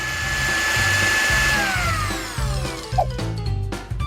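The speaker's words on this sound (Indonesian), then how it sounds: "Selanjutnya roti hitam harus dikirim ke blender untuk diparut dengan remahan-remahan kecil." A kitchen blender grinds black bread into small crumbs, a loud continuous motor whine that slowly drops in pitch as it spins down, followed by rattling and clattering of the jar.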